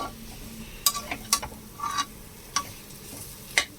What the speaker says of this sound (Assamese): এনেকৈ আলুখিনি ভাজি লৈছোঁ